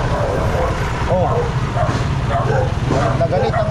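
An angry dog barks repeatedly at a busy market street with tricycle traffic, sharp yelps over a low rumbling engine, with people talking nearby.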